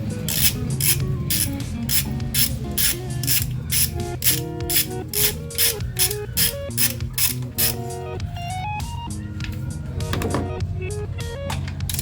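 Rapid ratchet clicks as a socket wrench unscrews a rocker cover bolt on a Nissan Serena C24 engine, a steady close-up run of sharp metallic ticks in bursts lasting throughout with no talk.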